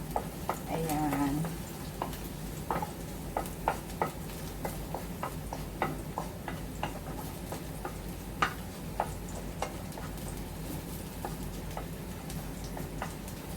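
Garlic sautés in a pan on the stove, a low steady sizzle with repeated ticks and taps of a spoon stirring. A brief louder scrape comes near the start.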